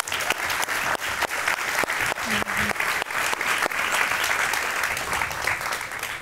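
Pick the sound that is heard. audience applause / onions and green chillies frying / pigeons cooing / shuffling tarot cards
audience applause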